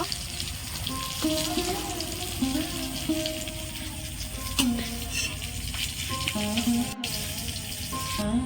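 Pieces of pointed gourd (potol) fry in hot oil in a pan, giving a steady, moderate sizzle that runs throughout beneath a soft melodic tune.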